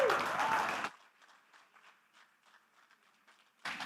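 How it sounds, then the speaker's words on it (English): Town hall audience applauding a speaker: a loud wash of clapping at the start that drops off abruptly, a quiet stretch of faint scattered sounds, then the clapping swells back in at the end. "Can we give a round of applause one more time to Mr. Mofe?"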